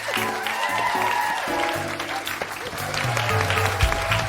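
A live comedy theatre audience at the Soho Theatre applauds steadily, a close and full wash of clapping that runs throughout, layered with sustained music tones underneath.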